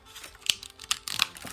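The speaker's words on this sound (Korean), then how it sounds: "이렇게 찰칵 소리가 나는 게 들리시나요?" Plastic arm parts of a Bandai DX Chogokin VF-1J Armored Valkyrie toy snap into place with a few sharp, close clicks, followed by a quick cluster of crisp plastic clacks.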